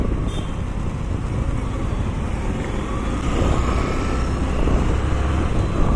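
Busy road traffic in Gandhipuram, a steady rumble of passing cars and engines heard from within the flow, continuous and moderately loud with a slight swell in the second half.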